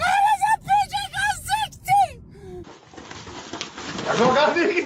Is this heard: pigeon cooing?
yes